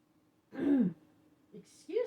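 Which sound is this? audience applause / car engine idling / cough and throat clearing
cough and throat clearing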